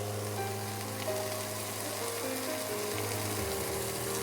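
Vegetables frying in a pan for mixed fried rice give a steady, even sizzle throughout, close by and moderately loud, with no talk over it.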